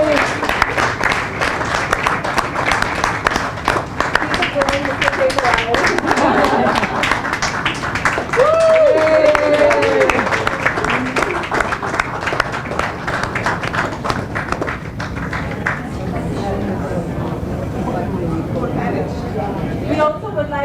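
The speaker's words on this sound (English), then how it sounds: "Yes, applause." An audience in a hall applauding at a live event, sustained crowded clapping with voices talking over it and a brief whistle partway through.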